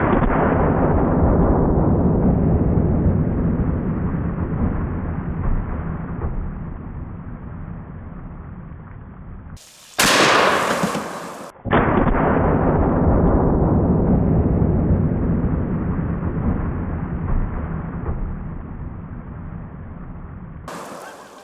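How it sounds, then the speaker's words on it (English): A double-barrel 10 gauge shotgun fires twice, one barrel loaded with a slug and the other with double-aught buckshot, each blast loud and booming with a long rolling echo that fades slowly outdoors. "Slug in the left barrel, double-aught buck in the right barrel."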